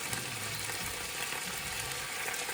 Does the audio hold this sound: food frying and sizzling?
yes